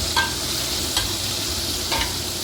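Chicken breast deep-frying in a big wok of hot oil for a second crisping round, giving a steady bubbling sizzle throughout with a few brief stirring scrapes, close and fairly loud, with no talking.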